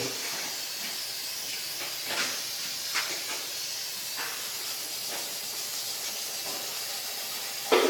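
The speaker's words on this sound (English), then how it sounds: "I'm just going to spray it on here, nice and slow" A spray can of lacquer hisses steadily as it coats gold, a continuous airy spray with brief louder bursts, close and alone.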